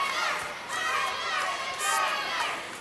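A wrestling crowd inside a building roars and cheers in rolling waves, the noise swelling and easing with excited shouts mixed in, heard at a moderate distance.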